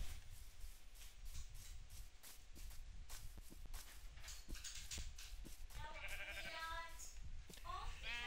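Sheep bleat in a Minecraft game, several short wavering bleats near the end, following a run of sharp clicky hits and footsteps under quiet game noise.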